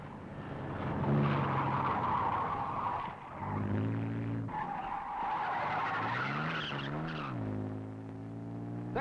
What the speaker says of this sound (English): Let's watch these Corvairs whip through this course in a fight against the stopwatch.